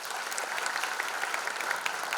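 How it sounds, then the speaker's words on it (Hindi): Loud, dense applause from a large audience at a celebrity event honouring a band and its musicians, a steady wash of clapping running unbroken for the whole stretch with no voices over it. "उनके लिए एक बार और जोरदार तालियां."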